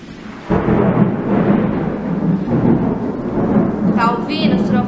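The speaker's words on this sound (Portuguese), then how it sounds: "Tá ouvindo, trovão?" A long, low rumble of thunder rolling on for several seconds, loud and steady, with a voice briefly heard near the end.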